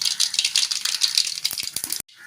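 Half a teaspoon of mustard seeds spatter and crackle in three tablespoons of hot oil in a pan, a dense, close sizzling patter with sharp pops before cutting off abruptly.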